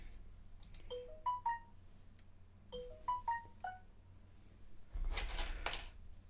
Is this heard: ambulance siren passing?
no